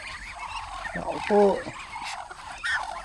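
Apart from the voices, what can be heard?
ducks calling while waiting to be fed at a mangrove eco-park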